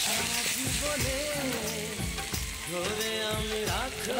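Tomato frying soft in a pan, a steady close sizzle throughout with a voice speaking over it.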